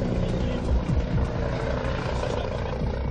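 A police helicopter fitted with a special camera flies over the A63 motorway between Bordeaux and the Spanish border, giving a steady, loud low rotor and engine rumble throughout.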